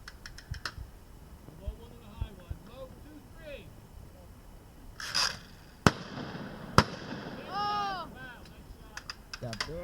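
Shotgun blasts at an outdoor shooting range, two sharp, loud reports standing out over a background of people talking.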